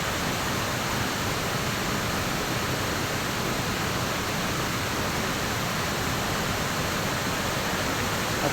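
Tenoy-an Falls in Bislig, Surigao del Sur, gives a loud, unbroken roar of falling water, a dense constant wash of noise from close by, with no voices audible.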